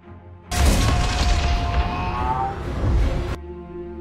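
A film-scene explosion tears through buildings in Hong Kong: a sudden loud booming blast rolls into a sustained rumbling roar with whooshing debris, lasting about three seconds before cutting off abruptly into quiet.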